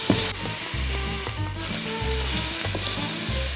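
Chopped onion and celery sizzle hard in olive oil over very high heat, a steady dense fry with occasional stirring clatter, close and loud with no talking.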